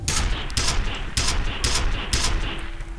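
Rapid gunfire in the first-person shooter F.E.A.R., several sharp bursts of automatic weapon fire spaced about half a second apart, loud and close, with no voices over them.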